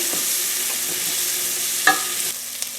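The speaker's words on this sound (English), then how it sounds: "I'm just going to cook this for like 5 to 7 minutes until the onions start to soften." Onions cooking with spices over medium heat for a vegan potato pea curry: a soft, even sizzle with one sharp utensil clink and a couple of light stirring scrapes.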